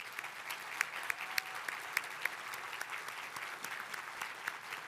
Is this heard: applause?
yes